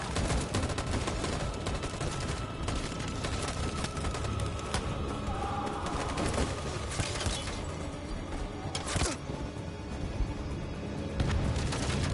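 Detroit: Become Human gunfire: dense, continuous shooting and booms, close and loud, with sharper bursts standing out now and then across the whole stretch.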